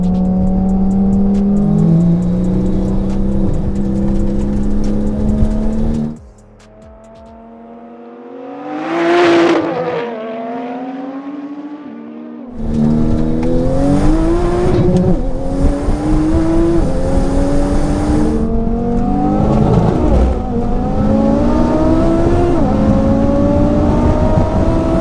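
A 1016 bhp Audi RS3 and a 1000 bhp Porsche 911 Turbo S roar through hard acceleration, engines climbing through gear after gear. A brief quieter lull separates two loud, sustained runs close to the listener.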